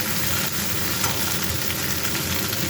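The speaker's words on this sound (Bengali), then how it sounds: "ভেন্ডিটা হালকা ভাজা হয়ে" Okra sizzles and crackles steadily in a hot pan while being lightly fried for okra posto, a continuous loud hiss with occasional stirring and no talking.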